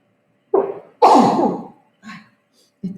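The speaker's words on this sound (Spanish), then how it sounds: "disculpen que voy a estornudar" A single close, loud sneeze from someone with a mild cat allergy: a short sharp burst, then a longer explosive release, and a faint breath after.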